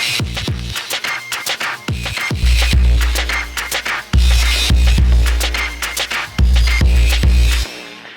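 A drum loop with shaker groove joined by a heavy, distorted, metallic-sounding bass treated with a Sound Toys effect, booming low notes swelling under steady kicks, loud and close, with no voices.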